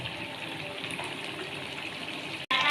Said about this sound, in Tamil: வந்து அரைச்ச தக்காளியை ஊற்றிக்கலாம்.